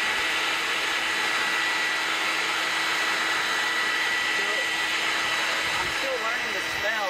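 A bee vacuum runs steadily throughout, a continuous motorized whine collecting a wild honey bee colony from under a floor, with faint voices in the background.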